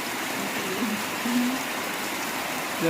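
Dense, steady rush of rain falling nearby, a constant wash of sound with faint tonal bits underneath; no voices.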